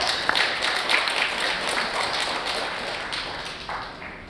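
An audience at a health talk show applauds to welcome a sleep medicine doctor on stage, a dense even round of clapping that fades slightly toward the end.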